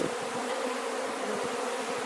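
Honey bees swarm around an opened hive during a hive check, a dense, steady buzzing drone held close and continuous throughout, with no talking.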